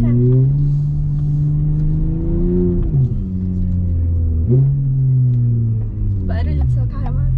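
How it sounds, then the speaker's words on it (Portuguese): A Porsche engine rumbles and revs while driving in traffic, its deep, loud drone rising and falling through several accelerations, with people talking inside the car over it. "O barulho do seu carro é uma delícia de ouvir. É alto, né?"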